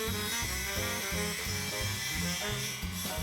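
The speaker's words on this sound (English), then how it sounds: "We use grinding tools, chisels, and sanders to resculpt the details that were lost in the casting or may have been obscured by the welds." Grinding tools work over the details of a cast metal sculpture, giving a steady, loud motor buzz with a regular pulsing rhythm that holds throughout without pause.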